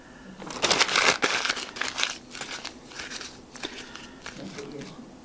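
A sheet of paper crumpled by hand, close and fairly loud crackling bursts, busiest at the start and then easing into softer, scattered crinkles.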